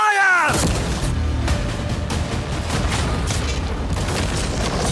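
A cannon fires a cannonball at a yacht with a single loud boom, followed by several seconds of dense, rumbling, crackling noise from the impact.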